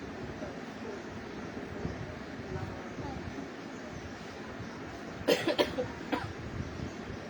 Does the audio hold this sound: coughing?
yes